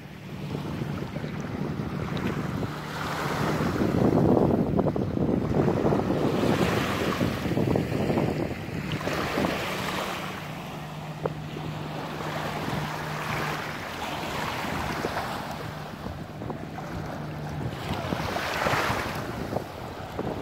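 Sea waves roll onto Makadi beach on the Red Sea coast in Egypt, with gusting wind buffeting the microphone; surges of surf build and recede in slow swells, loud and close, with no voices.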